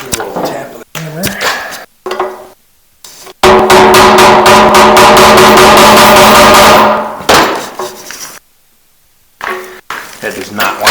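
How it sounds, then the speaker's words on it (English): A hammer taps a screwdriver on a stuck screw of a crusty 1973 Honda SL125 gas tank, a quick run of sharp metallic ringing taps close by, with someone speaking before and after. "Maybe a little tap of the hammer."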